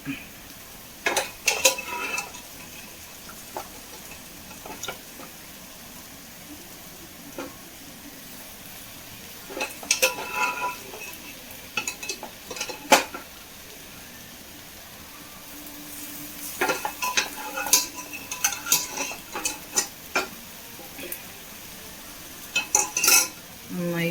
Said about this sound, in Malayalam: എല്ലാം കൂടി നന്നായിട്ട് മിക്സ് ചെയ്ത് കൊടുക്കട്ടോ